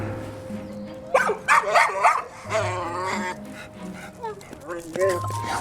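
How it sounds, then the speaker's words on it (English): A dog barks and whines in short bursts at other dogs, with yips and whimpers mixed in, while a person talks over it nearby. "The dog is barking at other dogs."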